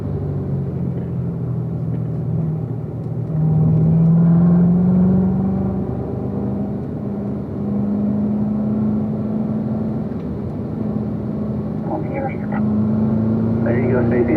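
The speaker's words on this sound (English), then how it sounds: "We're going to accelerate all the way down, all the way through 3rd gear up to 4th gear." A car on a race track accelerating hard through third gear up to fourth, its engine a steady, loud rumbling drone that rises in pitch with each gear, with no talk over it.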